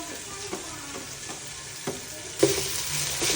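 Mint and coriander leaves fry for biryani in a hot pan, a steady close sizzle with stirring scrapes that grows louder near the end.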